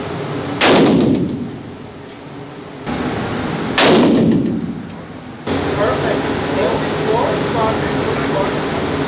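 Two loud, sharp 30-30 rifle shots crack about three seconds apart at an indoor shooting range, each followed by a decaying boom and reverberant tail, with a steady background hum throughout.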